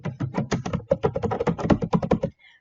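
Fast, crisp typing on a computer keyboard, close by, a dense run of key taps for about two seconds before stopping.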